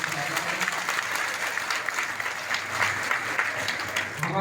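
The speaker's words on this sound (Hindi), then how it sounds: "जोरदार तालियां बजाकर आपका अभिनंदन करें" Devotees gathered with saints at a religious welcome ceremony clap together in a moderately loud, continuous round of applause, the crowd's hands patting steadily throughout.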